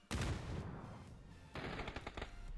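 Automatic gunfire in the battle game PUBG, loud and close: one long burst of rapid shots, a short pause, then a second run of shots near the end, with no talk over it.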